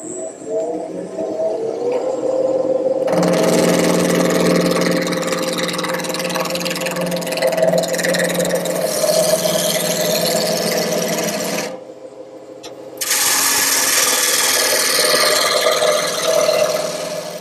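A wood blank spinning on a lathe while a gouge cuts it round, a loud, steady close grinding hum with a brief drop as the tool lifts away, then the cut resuming.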